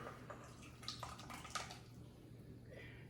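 Tomato liquid from canned tomatoes drips through a small kitchen strainer, giving a few faint, scattered wet drips in a quiet room.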